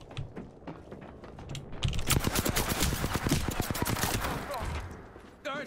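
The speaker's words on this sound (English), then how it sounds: "All right, shots fired in there." Bursts of rapid gunfire in the PC battle royale shooter Apex Legends, starting with sparser shots and then a loud, dense volley of close automatic fire that tapers off. A voice is faintly present.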